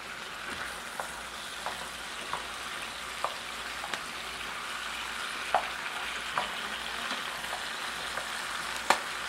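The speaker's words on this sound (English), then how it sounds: "get the mushrooms stirred around for a few minutes just so you get some of the oil on them" Mushrooms sauté in oil, giving a continuous soft sizzle broken by light scrapes and clicks of stirring at irregular intervals.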